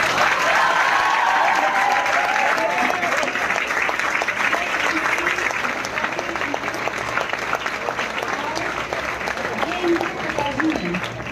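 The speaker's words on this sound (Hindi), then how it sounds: "इनके लिए जोरदार तालियां" Loud, dense applause from a classroom audience welcoming selected students, continuous clapping that stays strong throughout with a voice talking faintly underneath.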